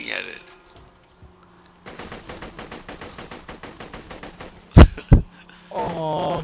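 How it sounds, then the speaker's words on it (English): Video game gunfire shredding a sheet: a rapid automatic burst of evenly spaced shots for about three seconds, then two louder single blasts, with a voice speaking briefly at the start and end. "I rip the sheet in half by shooting at it."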